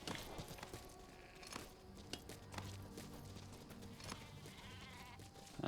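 Sheep in the video game Metal Gear Survive bleat quietly a few times, the short calls scattered among faint clip-clop footsteps and other soft in-game sounds.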